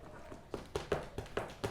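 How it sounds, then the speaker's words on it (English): A cat moving about a room, giving a short run of soft, irregular padding thumps and light taps close by, about seven quick impacts over under two seconds with no talking. "Yeah, that sound is my cat."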